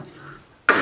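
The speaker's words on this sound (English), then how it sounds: "Make sure you cover your cough." A single sharp, loud cough or throat clear bursts out suddenly after a quiet stretch in a kitchen where people are baking.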